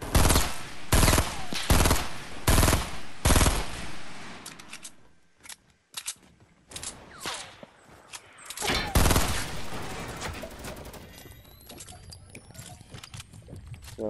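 Gunfire in a video game: loud bursts of rapid automatic fire in several clusters, then sparser shots and rattling sounds, fairly close and dominant with no clear talk.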